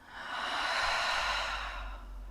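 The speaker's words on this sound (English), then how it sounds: "And a deep breath out." A single long, deep exhale during yoga breathing, a soft close airy rush that swells and then fades over about two seconds.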